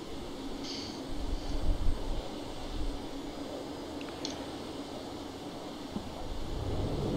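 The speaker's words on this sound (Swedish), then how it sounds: "Ett riktigt manligt flygplan på Saab för en gångs skull." A Saab airplane flies low overhead, heard as a steady, fairly distant broadband roar that swells slightly and then holds at an even level.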